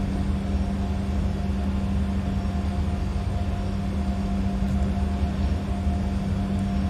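An Embraer E190 airliner taxiing in a flight simulator game gives a steady engine drone with a low hum and a constant tone running evenly throughout, with no voices.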